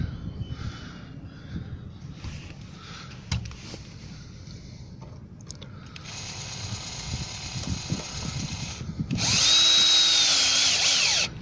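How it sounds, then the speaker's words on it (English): A power drill drives screws into the top and bottom hinges of a side gate. Quiet handling noises lead into a loud, steady whirring burst near the end, with no speech. "I've just put a couple of screws in the top and bottom hinges."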